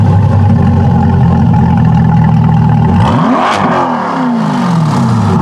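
A Chevrolet Corvette C8 fitted with a Corsa exhaust system revs loudly and close by, holding a steady rumble before sweeping up and down in sharp pitch changes.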